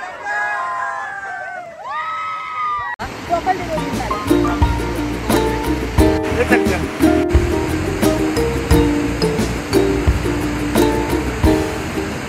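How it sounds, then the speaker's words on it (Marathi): A monsoon waterfall at the end of the Aadrai jungle trail in the Sahyadri forest roars steadily behind shouting and cheering voices. Brief voices come first, then the broad rush of water takes over. "आणि माझ्या मागे जे बघताय तुम्ही तर धबधबा आहे."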